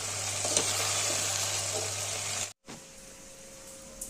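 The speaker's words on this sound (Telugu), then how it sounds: "కట్ చేసి పెట్టుకున్న ఒక ఎర్రగడ్డని 5-6 తెల్లగడ్డలని వేసి 2 నిమిషాలు వేయించుకుందాం" Loud sizzling of chopped onion and garlic cloves frying in hot oil, steady and close, then it cuts out abruptly and leaves quiet background hiss.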